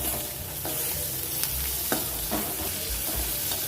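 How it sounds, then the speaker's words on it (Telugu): Boiled green peas hit a pan of hot butter and spices for Hyderabadi bagara rice, a steady close sizzle with scattered soft stirring knocks and brief pops, no voices. "ఇప్పుడు ఉడికించి వేసుకున్న బఠానీ."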